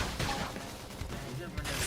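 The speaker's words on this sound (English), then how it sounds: "Flame grenade!" A flame grenade attack bursts out in Xenoblade Chronicles X combat, a short run of crackling, explosive hits and impacts layered over other battle effects, close and fairly quiet overall.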